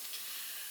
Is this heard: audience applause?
no